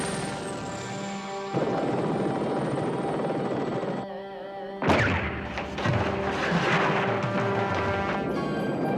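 Helicopter rotor and engine drone loudly and steadily, broken by a sudden loud impact or thump partway through, in an action scene from the television series Blue Thunder.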